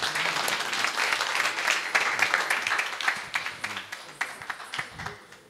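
Audience applause at a Yakshagana performance event, a dense sustained burst of many hands clapping that thins out toward the end, no speech.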